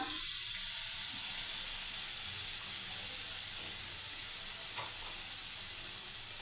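Grated ginger frying in oil for a sweet-sour tomato chutney, giving a steady, fairly quiet hiss that runs through the whole stretch with no talking.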